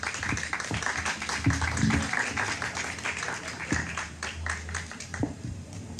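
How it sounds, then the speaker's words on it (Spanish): Audience applause at a poetry-book presentation and literary talk, a steady wash of clapping from a room of listeners, moderately loud and continuous, with a few faint voices mixed in. "Así que damos unos fuertes aplausos a Julio Islas y a Grace Gálvez."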